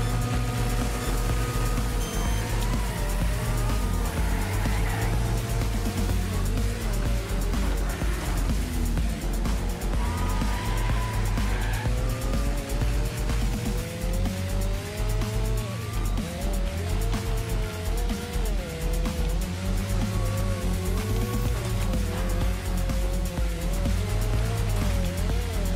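Stock cars race in the video game Wreckfest: engines roar loudly and continuously while tires squeal and revving pitches rise and fall across the whole stretch, with brief voice behind the racket.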